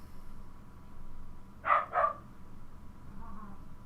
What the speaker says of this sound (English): Dog's going crazy again.